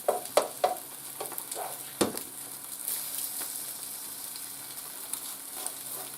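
Eggs fry in a pan for a make-ahead breakfast sandwich, a steady broadband sizzle with a few sharp spatula scrapes and clicks near the start, close and fairly loud, with no talking.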